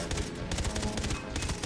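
Rapid bursts of gunfire from a weapon in the shooter game Far Cry 3 Blood Dragon, a fast, steady string of loud shots repeating throughout without pause.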